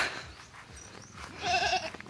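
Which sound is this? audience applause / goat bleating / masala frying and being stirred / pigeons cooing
goat bleating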